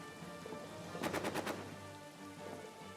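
A burst of about five rapid machine-gun shots in a World War I trench warfare game, crisp and moderately close, set over a faint steady rain-like background hiss.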